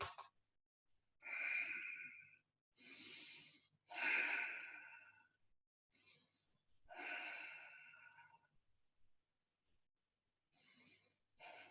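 Slow yoga breaths during arm stretches, each inhale and exhale a soft, airy rush lasting a second or two, repeated in a calm rhythm with quiet gaps between, close and clear with no talking.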